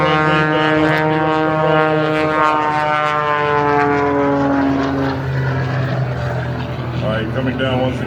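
Aerobatic propeller airplane performing maneuvers at an air show in Goldsboro, North Carolina, its engine droning loudly with sweeping pitch changes as it rolls, under continuous commentator speech.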